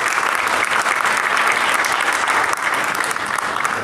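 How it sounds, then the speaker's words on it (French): An audience fills the room with loud, sustained applause, dense and steady throughout, with no talk over it. "je voudrais vraiment un tonnerre d'applaudissements pour ce merveilleux œuvre"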